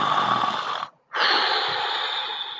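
Children imitating a wolf snoring at a pajama storytime: a group of voices making long, breathy snoring sounds, a loud drawn-out inhale, a brief pause, then another rasping breath.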